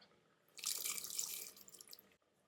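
Tamarind water and cooked dal being poured into a pot of cowpea and bottle gourd sambar, a brief, close splashing pour of liquid that swells for about a second, then trickles off and stops.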